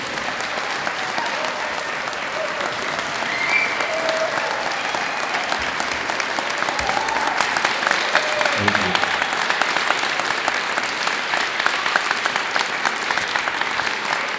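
A large crowd at a South Dakota March for Life event applauds steadily as Governor Larry Rhoden comes to the podium, with dense, even clapping that lasts throughout.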